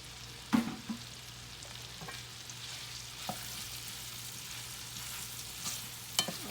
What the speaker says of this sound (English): now we're going to go ahead and add it to our iron skillet with our oil